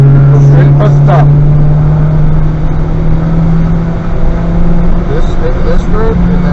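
A Honda Civic on a race track during a track day holds a steady, droning engine note under throttle, with an instructor's voice talking over it throughout.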